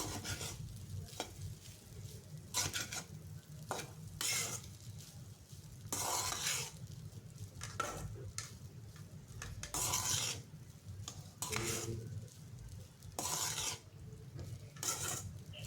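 Egg fried rice is stirred and tossed in a pan, and a spatula scrapes rhythmically against the metal in repeated rasping strokes over a soft constant sizzle. The sound is close and no one speaks.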